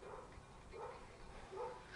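A dog barks a few times at some distance, faint and muffled, with short yelps spread across a brief stretch of low background noise.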